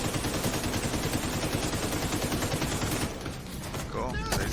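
Sustained rapid automatic gunfire from The Division 2 pours out in a loud, unbroken stream, then eases briefly near the end before the shooting resumes.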